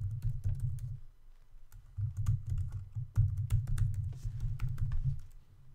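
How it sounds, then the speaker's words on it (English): Fingers typing a username and password on a computer keyboard, quick irregular clicks of keys in short bursts with a brief pause partway, close and alone without voices. "I'm going to enter in my username right here and my password."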